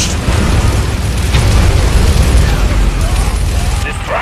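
A nuclear weapon detonates in a Command & Conquer-style strategy video game, making a loud, sustained roaring blast of broadband rumble that fills the whole stretch without letting up.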